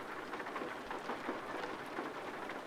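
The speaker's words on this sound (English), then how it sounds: "And it's raining." Steady rain with a low thunder rumble in Euro Truck Simulator 2, heard from inside a parked truck at night, an even, continuous hiss of moderate loudness with no voices.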